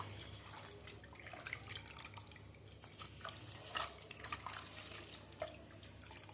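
Onions being rinsed in water at home before cooking, with soft drips, splashes and trickling water under a steady low hum, moderately quiet and uneven.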